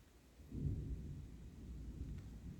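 A low, distant rumble of thunder rolls in and lingers for a couple of seconds, soft and muffled with no other sounds.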